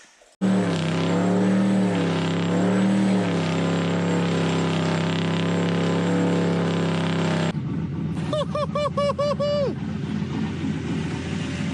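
An old CUCV military truck engine that has been running poorly runs with a rough, loud drone and wavering pitch, then a voice speaks over it near the end.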